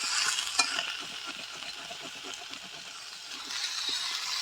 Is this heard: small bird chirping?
no